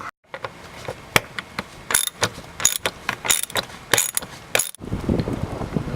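A hand ratchet with a 10mm socket backing bolts out of the underbody shroud of a 2011 Ford Fusion Sport in a driveway, rapid metallic clicking in uneven bursts, loud and close, ending with a rougher scraping rustle.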